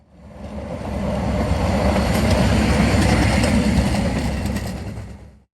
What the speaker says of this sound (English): 179 got underway and proceeded to haul his big train out of London.